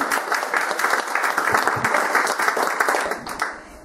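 An audience at a talk bursts into warm applause to welcome a professor. Dense, steady clapping from many hands continues for several seconds and thins slightly toward the end.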